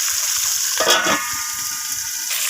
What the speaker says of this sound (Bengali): মাছের মাথাগুলো এখানে ফাটছে, তার জন্য আমি এখানে ঢাকা দিয়ে মাথাগুলোকে আমি ভেজে নেব